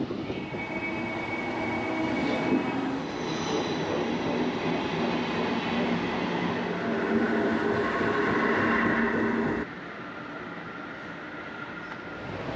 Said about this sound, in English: wave our Koploper away on the last leg of its journey to Zwolle